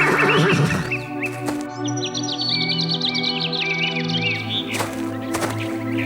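A horse neighs in a long, wavering whinny, while birds chirp and tweet in the background.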